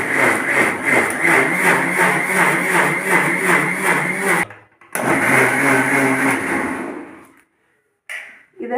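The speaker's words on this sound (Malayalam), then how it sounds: "അരച്ചെടുക്കുക." Mixer grinder whirring loudly and steadily as it grinds fenugreek hair-pack ingredients, cutting off briefly, restarting, then stopping with a short burst at the end.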